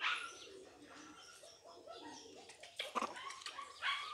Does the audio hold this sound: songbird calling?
yes